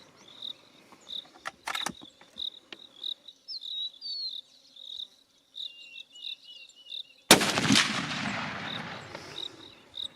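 A Sabatti Rover rifle fires at a 100 meter target on an outdoor range: one sharp, loud shot bursts near the middle and rings out, with a softer crack before it, over steady chirping insects.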